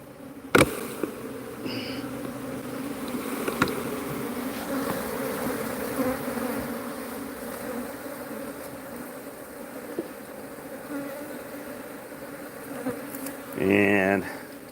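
Honeybees shaken off a hive frame drone in a dense, continuous buzz close by, with a few sharp knocks and a brief rustling burst near the end.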